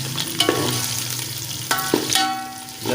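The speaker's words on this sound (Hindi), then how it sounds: "अपने बीफ कबाब जो हैं इनको अच्छी तरह कर लेते हैं फ्राई" Beef kebabs frying with onions in a pan give a steady close sizzle throughout, with a few sharp stir and scrape clatters from a utensil against the pan.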